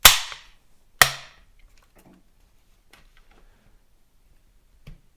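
Lee-Speed target rifle with a heavy but crisp trigger pull: two sharp, close metallic clicks a second apart, followed by faint handling taps and a softer click near the end.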